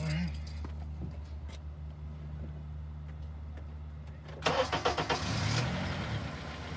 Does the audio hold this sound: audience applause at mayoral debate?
no